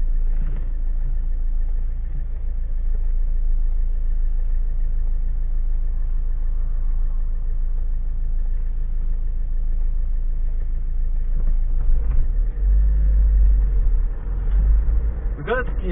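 A Citroën car engine, still slightly cold, runs steadily with a low rumbling hum from inside the vehicle, a few bumps and knocks near the end.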